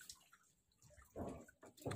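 Water from a bowl of cleaned fish pieces is poured out, a short splashing gush after a faint drip, close and fairly quiet with no talk.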